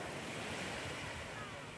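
Sea waves breaking at the shore in the afternoon, a steady broad wash of surf with wind noise across the microphone, continuous and loud, with no talk.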